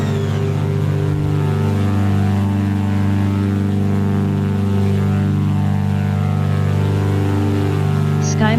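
A Skymaster aircraft climbing out after takeoff in Flight Simulator X near Mount Rainier, a steady, loud propeller drone with a constant throbbing pulse that holds for the whole stretch.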